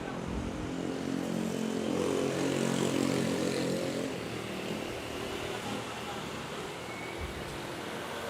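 A China Airlines jet takes off at Manila airport, heard as a loud, steady engine roar that swells and then slowly fades as the aircraft moves away.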